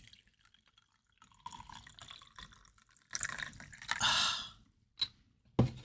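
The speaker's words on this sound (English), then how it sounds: "I think it's time to pour some tea before I get started" Tea poured from a pot into a cup, a short trickle swelling into a fuller gurgling pour, then small clinks and splashes near the end, close and quiet with no talking.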